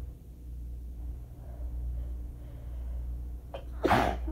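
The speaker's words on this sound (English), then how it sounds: "I've been sneezing so much over the past few days" A single sharp, loud allergy sneeze bursts out near the end after a few seconds of low rumbling room noise, preceded by a quick intake of breath.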